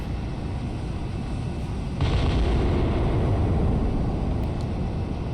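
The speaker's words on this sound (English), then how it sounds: "we got 3 missiles heading out" In the Cold Waters submarine game, missiles launch with a sudden loud, deep roaring rush that follows a steady low rumble and keeps on as a sustained blast with no voices over it.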